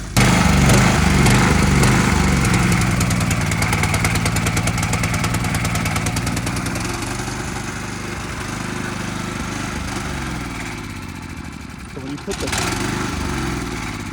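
A small gasoline engine runs with the choke on, low on fuel in the carburetor. It chugs loud and close, steady at first, then eases slightly before a brief surge near the end.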